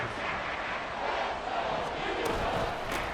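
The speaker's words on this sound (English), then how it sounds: "this crowd trying to force a false start here." Dense, steady stadium crowd roar from Madden NFL 24, a loud football crowd trying to force a false start on 3rd and inches, continuous with brief swells.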